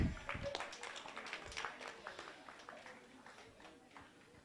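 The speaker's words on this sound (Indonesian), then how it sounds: "Tepuk tangan." Audience applause at a voter-education event in Meulaboh, with scattered hand claps spread over a few seconds, fairly faint and roomy, mixed with light background voices.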